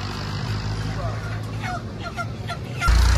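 Chickens at a roadside poultry shop give short, repeated clucks and squawks over a steady hum of traffic and street noise, with a louder rumble at the end.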